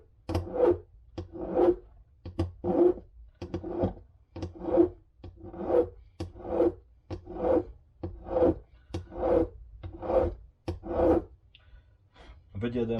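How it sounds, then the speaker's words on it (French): Rasping strokes of a file on an aluminium HOBAO 8SC steering knuckle, about a dozen steady back-and-forth passes at an even rhythm, close and moderately loud with no talking. "Allez, on lime, on lime."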